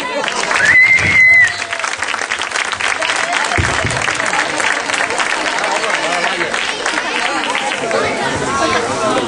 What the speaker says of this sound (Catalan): Rebem amb un càlid aplaudiment els trucaires de Salt.